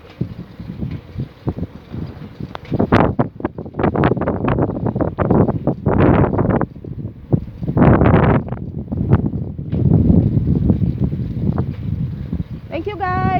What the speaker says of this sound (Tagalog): hindi ka talaga makapag-relax kasi sobrang mahangin